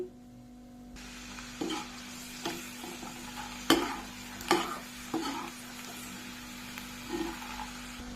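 Okra and peanuts frying in a pan with garlic chili powder while a spoon stirs them. A steady sizzle runs throughout, broken by several sharp scraping stir strokes. No one speaks.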